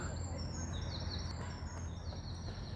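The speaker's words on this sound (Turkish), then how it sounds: "Kuş sesleri arasında bitirelim." Birds chirp and trill repeatedly over a loud, steady background rumble in Samsun, Turkey, high bright calls coming in short bursts.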